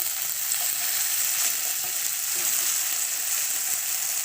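Taro leaves sizzle steadily in a hot pan as they are stirred, a continuous close frying hiss with faint scraping throughout.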